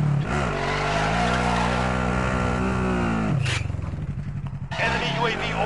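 A car revs and accelerates while being driven in a video game, with the engine whining steadily, then dropping off and surging again, alongside tyre noise and players talking over it.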